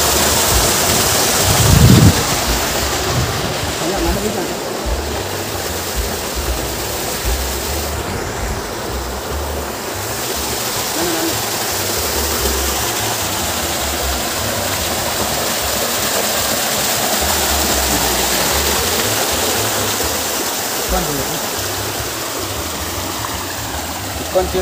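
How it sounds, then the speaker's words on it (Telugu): A small outdoor waterfall pours in a loud, continuous broadband rush that stays steady and close throughout, with some wind buffeting the microphone. "మొత్తం సేమ్ వాటర్ ఫాల్ లెక్కనే ఉంటుంది ఇక్కడ."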